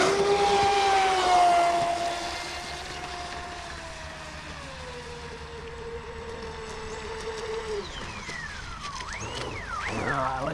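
A small electric motor on an RC speedboat running on a lake whines steadily at a distance, its pitch sliding down and then rising in sharp revving sweeps near the end.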